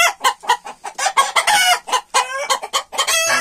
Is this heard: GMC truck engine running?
no